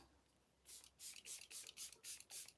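MAC Fix+ setting spray is spritzed in six quick, evenly spaced hissing bursts, quiet and close, with no talking.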